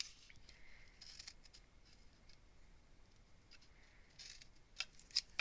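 Scissors snip small notches in material at a quiet, close range, with several light cuts scattered through the stretch and a few sharper snips near the end.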